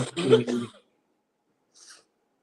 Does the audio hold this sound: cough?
yes